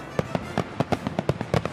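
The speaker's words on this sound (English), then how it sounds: "fireworks." Fourth of July fireworks bursting in a rapid series of sharp loud bangs, roughly a dozen reports at irregular short intervals, close and alone.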